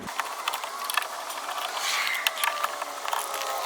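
A tool turns out the four screws holding the factory speaker in a Honda S2000, making steady close ratcheting clicks and creaks that continue throughout.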